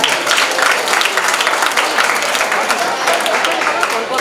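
An audience at a school farewell party applauds with steady, dense clapping from many hands that fills the room throughout, with a voice speaking faintly underneath.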